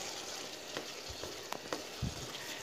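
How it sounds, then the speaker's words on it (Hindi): Tomatoes stirred into frying vegetables for Mumbai pav bhaji, a soft continuous sizzle broken by several scraping and thudding strokes of the spoon, quiet and without talk. "अब हम डालेंगे टमाटर, इनको भी हम अच्छे से मिक्स कर लेंगे।"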